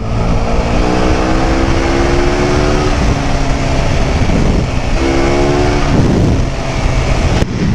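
A KTM Super Duke GT motorcycle engine roars loudly and close, continuously at high revs, rising in pitch in two sweeping pulls with a rough, buzzing texture throughout.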